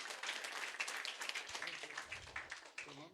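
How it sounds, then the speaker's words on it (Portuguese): Light applause from a small audience at a school event, a patter of scattered claps with faint voices mixed in, fairly quiet throughout. "Aplausos para Maria Eduarda também"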